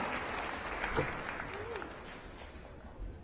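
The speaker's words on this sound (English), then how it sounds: "And give them a hand, the folks that are doing the interviews." Audience applause at the 2023 WILLCO awards ceremony, a dense steady clapping from a large crowd that fills the whole stretch, slowly tapering off toward the end.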